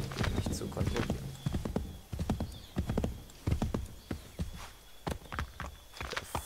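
Steady clip-clop of horse hooves pounding along at a quick gallop in Assassin's Creed III, close and loud, over a constant background rumble.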